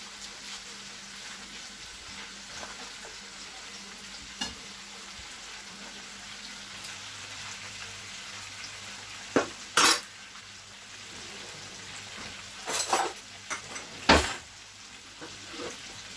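Red mullet fillets fry in a pan with a soft, steady sizzle. Brief scrapes and clatters of a utensil sliding under a fillet come near the end. Nobody speaks.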